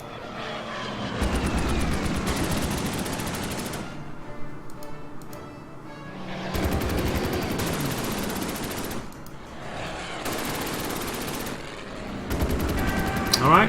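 Bursts of gunfire and engine drone from an anti-aircraft attack on a Mitchell bomber in the strategy game Order of Battle, in a desert sandstorm setting; loud sustained volleys arrive in three or four separated waves with quieter gaps between.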